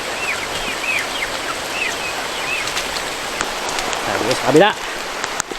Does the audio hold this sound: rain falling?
yes